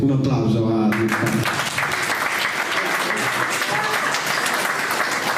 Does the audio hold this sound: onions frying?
no